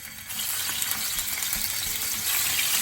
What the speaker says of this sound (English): we're gonna drop our pretty scallops that we just seasoned with salt and pepper on both sides. It should sizzle 90 seconds on each side